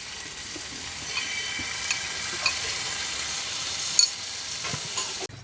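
Boiled chicken and Chettinad gravy fry in a pan for set parotta masala, a soft, even sizzle throughout with occasional faint stirring taps, quiet and close, no talking.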